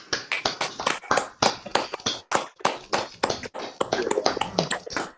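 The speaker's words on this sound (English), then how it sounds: "give a big round of applause to both of you" Several people applaud at the end of an online gathering, scattered claps from a handful of separate microphones, uneven and close, with no talk.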